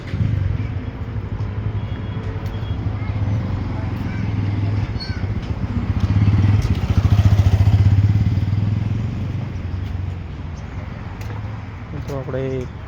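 Motorcycle engine idling steadily with a low rumble as it is parked near a temple in Gujarat, rising slightly midway, with faint clatter and a voice briefly at the end.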